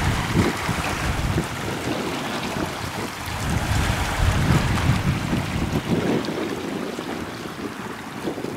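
Sea waves wash continuously onto a Cyprus shore, and strong wind buffets the microphone in a constant, roaring rush.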